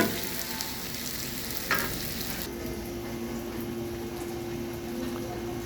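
Onions sauté in a pan for a spicy dried-fish dish, a dense continuous sizzle and bubbling with a light stir or scrape early on, close and steady throughout.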